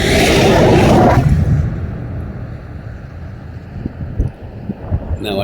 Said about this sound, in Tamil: அதனால் உங்களுக்கு காற்று சவுண்டு ரொம்பயா இருந்தாலும் இருக்கும்